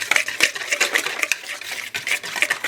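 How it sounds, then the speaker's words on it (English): Dry ingredients and salt being mixed in a bowl, a quick series of close scraping and clinking stirs from a utensil against the bowl, repeated rhythmically over a few seconds. "I'm just going to mix this together first before I start adding my other ingredients"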